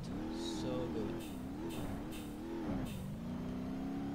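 A car in BeamNG.drive, handbrake pulled between two ramps to drift, revs hard with its engine pitch rising, dipping and surging again. Loud and near, with a person talking over it.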